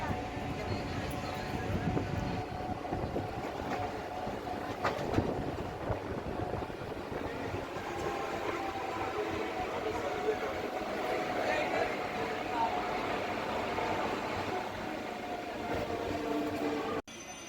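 A MEMU train on the Secunderabad to Warangal line pulls out of Bhuvanagiri station with a continuous rumble and rhythmic wheel clatter, heard from on board, with voices in the background.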